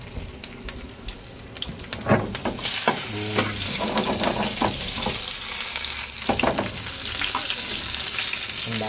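Onion sautéing in a pan, a close sizzle with scraping stirs and clatter throughout, brief sharp strokes standing out over the steady frying noise, no talk.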